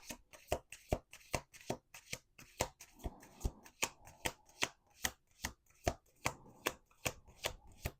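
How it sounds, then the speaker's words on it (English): Cards are riffled and bridged over and over in a quick, crisp rhythm, close and quiet, with soft hand handling between shuffles. "One more shuffle."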